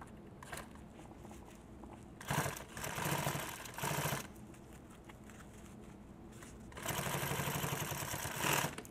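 Sewing machine stitching nylon tactical gear runs in several bursts of rapid, even stitching at close range, with quieter handling sounds between the runs.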